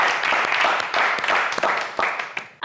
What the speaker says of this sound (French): on va vous applaudir bien fort